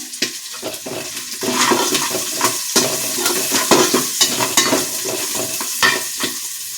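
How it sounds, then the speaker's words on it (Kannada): Onion and green chillies frying in a pan for a festival dish, a steady close sizzle with repeated stirring scrapes and clinks throughout, no talking. "ಸ್ವಲ್ಪ ಆನಿಯನ್, ಮೆಣಸಿನ್ಕಾಯಿ ಎಲ್ಲ ಸ್ವಲ್ಪ ಫ್ರೈ ಆಗಬೇಕು."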